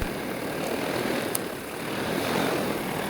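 Propellers of a large homebuilt heavy-lift drone rated for 100 kg hum steadily in hover, a broad continuous drone close by and fairly loud throughout, with no voices.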